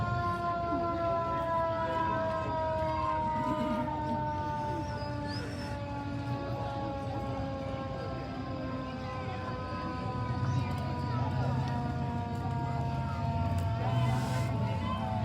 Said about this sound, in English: And now we have Engine 7-2 of the Rock Hall Fire Company making some noise this morning.